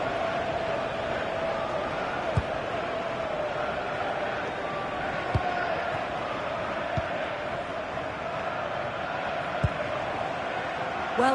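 Steady wash of a stadium crowd in the FC26 football video game, a dense continuous roar with a few sharp thuds rising above it, with no clear lulls throughout.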